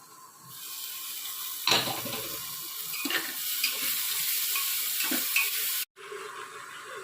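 Potato curry with onion is stir-fried in a pressure cooker, making a close, moderate sizzle broken by several scraping stirs and a brief cut-out near the end.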